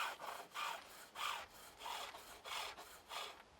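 Green wood turned on a pole lathe with a skew chisel: six rhythmic rasping cuts, each swelling and fading in step with the treadle, close but fairly quiet, with no voices.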